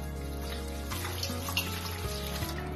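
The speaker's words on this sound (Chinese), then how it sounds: "烧好的草木灰再加入清水，" Clean water poured into burnt rice-straw ash in a bowl, a brief steady splashing trickle with a rising tonal ring as the container fills, close and fairly quiet.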